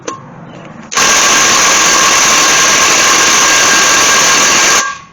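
A cordless impact wrench running on a dead battery while working on the rear brakes of a Dodge Ram dually, a loud, steady mechanical buzz that runs for about four seconds and then cuts off.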